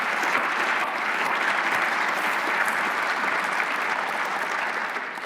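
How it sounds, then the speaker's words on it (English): A large audience applauds at a speaking event, dense and steady clapping that holds at full strength and eases slightly at the very end. "give those great warriors a round of applause"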